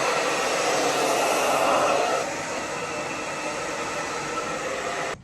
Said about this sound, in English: Just going to quickly rough dry the rest of my hair off.